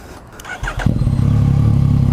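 A 2015 Yamaha FZ-09 (MT-09) motorcycle with an Akrapovic exhaust barks to life with a couple of sharp blips, then settles into a loud, deep, throbbing idle close by.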